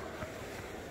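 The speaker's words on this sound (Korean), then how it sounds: "왜냐면 바람이 많이 불어가지고" Strong wind gusting at the seaside on a coastal trekking trail in Taean, with surf washing steadily underneath, a continuous loud broadband roar that swells briefly near the start.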